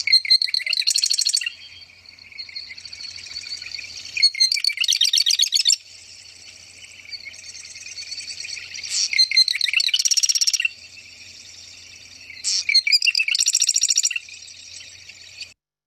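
Wetland bird singing from low vegetation, bright repeated phrases that wind up and burst out quickly with gurgling, watery trills, close and clear, several bouts separated by short pauses.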